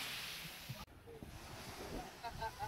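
Waves and wind at Kasiguran Beach, a white-sand shore, with a soft wash of surf and a breezy hiss, fairly faint, broken by a brief microphone bump.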